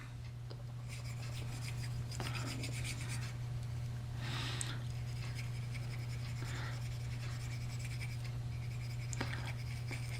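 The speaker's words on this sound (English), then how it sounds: "Just using a Q-tip, and just get a good coating on the inside." A Q-tip rubbing paint around the inside of a metal flake pen blank tube, faint scratchy swishing strokes in irregular bursts over a steady low electrical hum, close and quiet.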